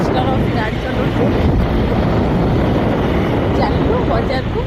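Scooter ride outdoors on the way to a market, with a loud, continuous rumble of wind buffeting the microphone and no breaks from start to finish.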